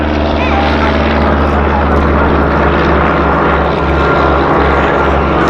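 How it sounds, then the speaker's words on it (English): A Westland Scout helicopter flying at an air festival at Duxford: a loud, steady rotor and turbine drone with a constant thrumming pulse, continuous throughout. "British helicopter, the Westland Scout, really became very, very famous in the Falklands War"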